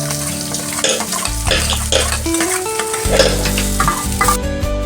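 Cooked rice with potatoes and curry leaves is stirred in a frying pan, a loud close sizzle with scraping and clattering strokes of the spoon over layered hum.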